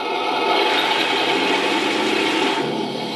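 A small motor in an RC M4A3 Sherman tank whirs and hums with a rising, whining simulated turbo diesel engine tone, steady and close, briefly shifting pitch near the end.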